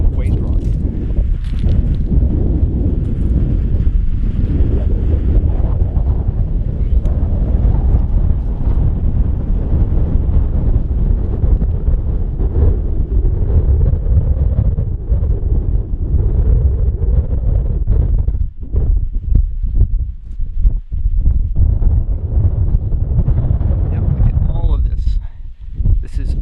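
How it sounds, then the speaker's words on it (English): Strong wind roars steadily across a mountain of mine waste rock at an abandoned mine, a loud, continuous buffeting on the microphone with someone speaking over it. "it's very windy up here"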